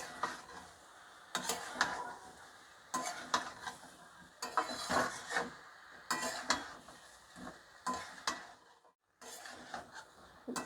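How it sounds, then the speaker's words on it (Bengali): Prawns with young jackfruit, potato and spices sautéed in a pan, with repeated rhythmic stirring bursts of scraping and sizzling and brief pauses between strokes. "চিংড়ি মাছটা দেওয়ার পরেও আমি কিছুক্ষণ কষিয়ে নেব।"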